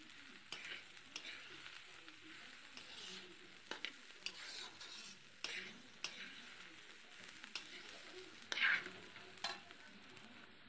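Rice being stirred and fried in a pan with sugar, cashews and raisins, giving a soft, continuous sizzle broken by scraping and stirring clicks at irregular intervals, fairly quiet and close.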